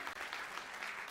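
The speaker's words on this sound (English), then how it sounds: "I think we need to give them a round of applause" Audience applause at a Day of the Seafarer gathering, a steady wash of many hands clapping at moderate volume, continuous and unbroken through the short moment.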